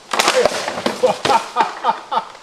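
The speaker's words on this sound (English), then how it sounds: "I put the riveted chainmail piece in front to make it extra hard for the sword launcher to do its job" A ballistic sword launcher fires a sword into a riveted chainmail target, giving sharp cracking impacts and metallic rattles in quick succession, with a voice speaking intermittently.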